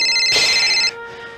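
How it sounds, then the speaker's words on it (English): A telephone rings at night indoors, a bright electronic ringtone heard close and loud for about half a second before it cuts off abruptly, leaving a faint low hum. "Who could that be calling at this time of night?"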